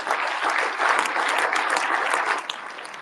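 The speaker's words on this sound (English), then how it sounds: "That's clapping for volunteers" An audience claps steadily at the opening ceremony of a Tamil Heritage Month celebration, thanking volunteers; the dense, even applause fills the space from start to finish with no voices over it.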